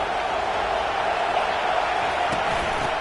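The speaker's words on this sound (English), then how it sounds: "Listen to this crowd just shaking the girders of this place, trying to help their defense." A packed Texas A&M football stadium crowd roars in a dense, steady wall of noise that holds level throughout, with no clear breaks or single voices standing out.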